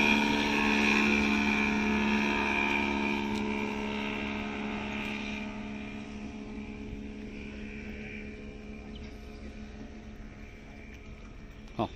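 A speedboat passing at Budai harbour, a strong engine drone that peaks at the start and gradually fades as it moves away, with no talk.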